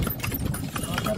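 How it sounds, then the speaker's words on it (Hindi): A horse pulling a carriage in Agra, its hooves clip-clopping in a steady, fairly close rhythm while a person talks over the sound. "ये टक टक टक टक करता हुआ घोड़ा"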